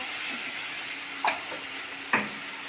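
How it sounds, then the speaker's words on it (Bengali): Masala paste of garlic, onion and ginger fries with added cumin powder in a home kitchen, a faint steady sizzle broken by two sharp spatula clinks against the pan. "জিরে গুঁড়ো দিচ্ছি মশলাটাতে মশলাটা কষে নিই"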